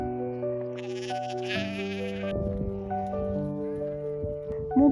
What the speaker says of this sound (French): Il y a pas mal de moutons sur les champs en face.